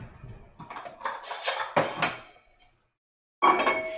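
Dishes and a bowl clatter in a home kitchen, a run of ceramic knocks and scrapes, a brief silence, then another sharp clatter.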